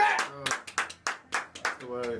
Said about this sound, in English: My loud clap don't sound right.